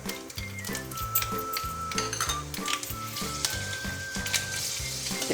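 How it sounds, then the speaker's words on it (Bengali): Mustard seeds and dried red chillies tempering in hot oil for semolina dosa, a loud crackling sizzle with sharp popping, faint clinks of a pan and a rhythmic tonal background beneath, no speech. "সর্ষে দানা আর হলো শুকনো লঙ্কা ফোড়ন দিলাম"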